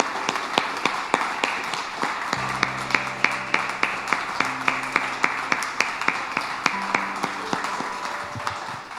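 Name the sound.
applause in church congregation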